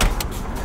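A car engine catches and starts on a rainy day after the dashboard lights flicker out: a brief, loud burst of cranking and ignition up close, settling into a steady running rumble.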